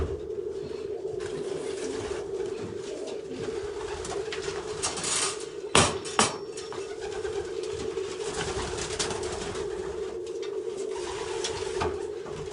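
Racing pigeons coo steadily inside a loft, a low continuous murmur of calls, with a couple of brief knocks or flutters midway.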